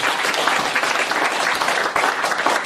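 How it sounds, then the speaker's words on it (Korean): Dense, steady applause from a university audience welcoming a professor to a philosophy colloquium lecture, a continuous wash of many hands clapping at close range. "큰 박수 부탁드립니다."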